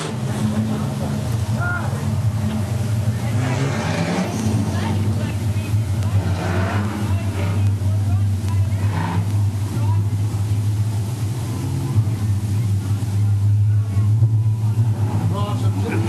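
Street stock race cars on a track before a heat make a continuous low engine drone that rumbles on steadily, with an announcer talking over it throughout.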